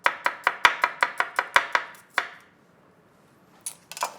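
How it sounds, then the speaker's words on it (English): A knife slices a large garlic clove on a board in about a dozen quick, even taps, then pauses, followed by a couple of faint knocks near the end. "One large garlic clove. Slice."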